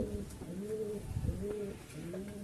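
Soft, rounded Kalsira pigeon coos repeat in a slow rhythm, several low rolling calls close by with faint background noise.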